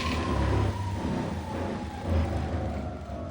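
A Solar FF 2.0 electric scooter accelerates hard at speed, giving a steady motor whine and broad rushing road and wind noise that swells twice, close to the mic with no speech.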